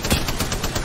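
Apex Legends gunfire comes as a short, dense burst of rapid game shots, loud and close, with no talk over it.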